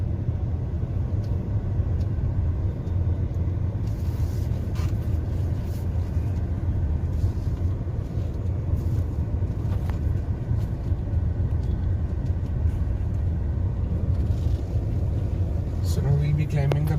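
A Jeep Meridian SUV crawls over a tight, congested off-road track, its engine a steady low rumble close by throughout, with voices talking over it.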